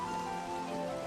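Steady rain falling in Minecraft, a soft continuous patter heard alone beside a faint sustained tone, quiet and even.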